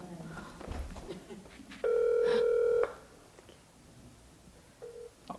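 A phone is dialed on a Korean Christian broadcast: one long steady touch-tone beep sounds clearly for about a second, then a short faint beep follows over quiet room noise.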